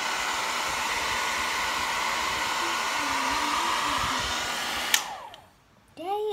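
A hair dryer blows steadily and loudly over a handwritten letter message, a constant rushing whir that cuts off near the end and then briefly restarts.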